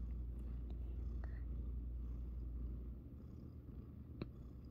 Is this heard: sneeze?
no